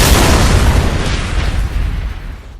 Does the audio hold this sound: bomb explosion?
yes